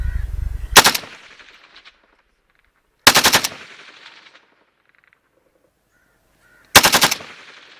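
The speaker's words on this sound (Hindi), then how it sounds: "अब हम इसको ऑटोमेटिक के ऊपर करके थोड़ा सा हैवी रेट ऑफ फायर के साथ लाइट मशीन गन मोड में इसको फायर करेंगे।" A rifle fires on automatic in light machine gun mode at a firing range, three short loud bursts of rapid shots spaced a few seconds apart, each ringing off into quiet, with no talking.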